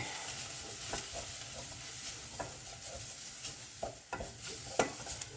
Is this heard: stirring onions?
yes